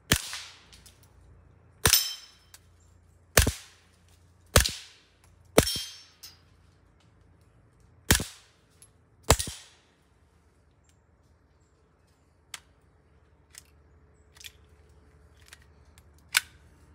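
Pistol shots ring out at an outdoor shooting range while an Olight Osight red-dot sight is tested: about seven loud, sharp reports in an uneven sequence with short ringing tails, then a few fainter clicks and metallic clanks.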